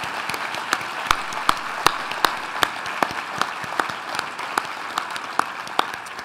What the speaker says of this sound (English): Let's give another big round of applause to all of our wonderful honorees